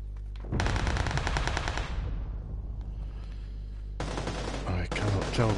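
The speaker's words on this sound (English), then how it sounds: "I cannot tell where the gunfire is coming from." Automatic gunfire in PlayerUnknown's Battlegrounds (PUBG), a loud sustained rattling burst that fades into a ringing tail, then a second dense burst erupts and continues to the end.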